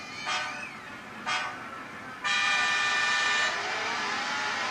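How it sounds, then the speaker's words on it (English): A VW GTI races in a mobile game played on a Motorola Atrix HD phone. Two short engine-like bursts are followed by a loud, steady revving drone that holds to the end, with no talk. "this time we're going to race with our VW GTI"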